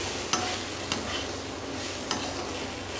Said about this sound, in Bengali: চাল আর মুগ ডালটা দেবো